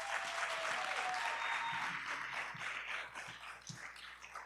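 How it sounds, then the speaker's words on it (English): Audience at a morning legislative breakfast applauding youth participants, a dense steady wash of many hands clapping that fades slightly toward the end, with faint tapping and low murmurs underneath. "Please give our youth a round of applause"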